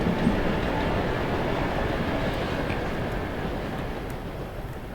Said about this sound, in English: Is that the normal train sound? That isn't normal.